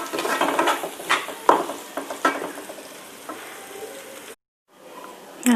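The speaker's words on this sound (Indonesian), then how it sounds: "kita tumis sebentar seperti ini biar nggak cepat basi" Sambal terasi, a shrimp-paste chili relish from Aceh, is stir-fried in a pan, giving a loud steady sizzle broken by repeated scrapes and clanks of a spatula stirring, with a brief silence near the end before the frying resumes.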